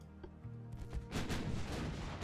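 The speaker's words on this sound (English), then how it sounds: "First couple of gunshots, or first couple of hits in." Warship guns fire in a naval battle in the video game Ultimate Admiral Dreadnoughts, with a 1910 Japanese fleet: a few muffled thumps give way to a dense, loud rumble of overlapping booming salvos.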